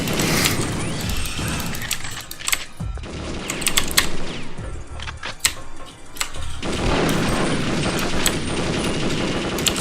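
Rapid pistol gunfire in the video game Perfect Dark, set in Area 51, comes as close bursts of sharp mechanical shots and clatter, with brief lulls between volleys and game effects underneath.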